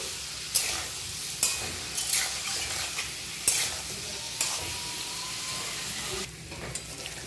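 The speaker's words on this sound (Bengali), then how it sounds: "মশলাটা কষানোর জন্য দিয়ে দিচ্ছি সামান্য জল মশলাটা ভালো করে কষে দিচ্ছি" Spice paste (masala) with a splash of water is stir-fried in a pan, giving a continuous sizzle broken by repeated scraping spatula strokes at an uneven rhythm, close and moderately loud, with no voices.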